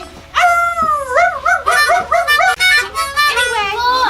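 A person imitates a wolf, letting out long wavering howls that rise and fall, followed by a string of shorter yipping, yowling cries, loud and close with no other sound.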